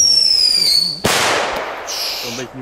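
Fireworks set off in Belgium: a high whistle glides down, then a sharp, loud bang bursts close by and crackles away, while someone talks over the sounds.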